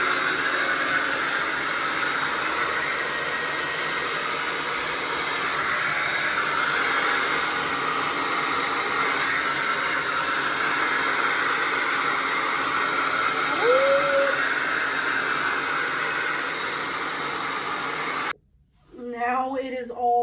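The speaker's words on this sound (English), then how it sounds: "now I'm gonna go blow dry it." A hair dryer blow drying long hair runs in a steady loud whoosh for about eighteen seconds, then cuts off abruptly and a voice starts speaking.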